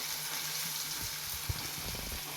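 Soft, continuous sizzle of onions frying in groundnut oil, a quiet crackling hiss with a few faint clinks or stirs.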